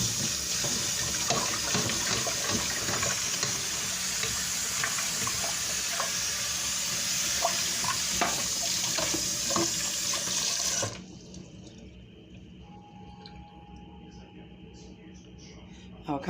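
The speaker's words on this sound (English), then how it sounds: "I'm rinsing out my pan" Water runs hard from a kitchen tap while a baking pan is rinsed out, a loud steady splashing rush that stops abruptly partway through and leaves quieter room sound.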